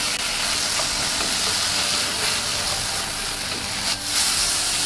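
Bitter melon stir-frying in a pan: a steady, dense sizzling hiss runs throughout at close range, with no voices.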